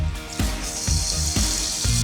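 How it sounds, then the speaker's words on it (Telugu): Water pours steadily into a pot of ice apple curry on the stove, a continuous splashing rush with a few soft knocks, close and fairly loud, with no one speaking. "వాటర్ ఏమో ఇక్కడ లోపల ఉన్న ముంజలన్నీ ములిగేదాకా వేసుకోండి."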